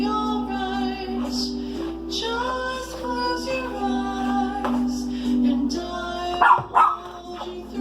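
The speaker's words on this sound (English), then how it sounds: "And my dog will stop barking." A dog barks and yelps a few times near the end, over a steady musical background with sustained tones.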